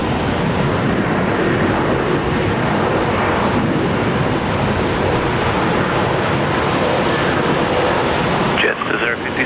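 Qantas airliner landing on runway 19 left at Brisbane International Airport, a loud, steady broadband jet roar filling the whole clip and dropping away briefly near the end, with a radio voice faintly under it.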